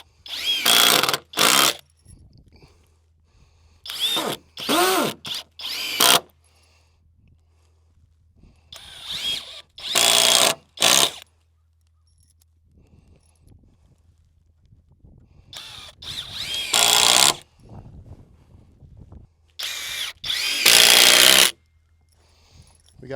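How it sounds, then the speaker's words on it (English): Power drill driving screws into fence boards, several loud close bursts of whirring, each a few seconds long, separated by quiet pauses. "I'm going to put 2 screws on either side."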